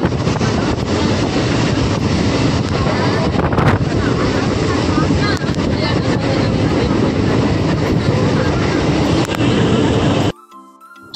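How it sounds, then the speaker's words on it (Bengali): A moving train heard from inside a carriage, a loud continuous rumble and rattle of wheels with wind noise buffeting the microphone, steady for ten seconds before cutting off abruptly. "ট্রেন যাচ্ছে আর ছুটছে"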